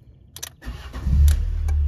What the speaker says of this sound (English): I'm gonna fire up the car